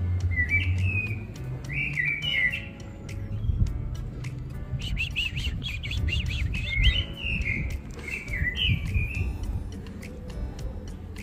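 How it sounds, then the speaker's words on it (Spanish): Birds chirp and sing nearby in repeated short bright phrases over a low steady background hum, with no talking. "¿Has visto pájaros entrando?"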